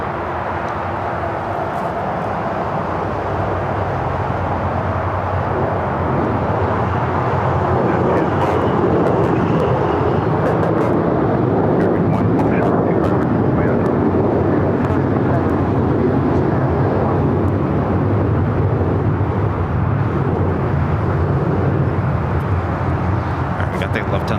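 A jet airliner arriving on the north side of Los Angeles LAX, heard at a plane-spotting spot near Terminal 4 as a steady, loud broadband engine roar that swells slightly over the span, with a voice talking over it.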